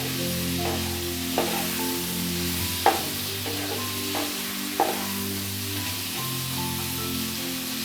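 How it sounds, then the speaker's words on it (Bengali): Chicken coated in turmeric and chilli powder sizzles steadily in a kadai while a utensil stirs it, giving periodic scraping clicks against the pan over the constant frying hiss and a low background hum. "মাংসটা একটু সামান্য ভাজা ভাজা হবে"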